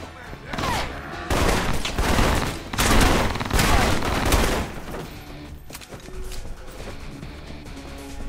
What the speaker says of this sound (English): This assault rifle's really been upgraded with all those additions we put on it.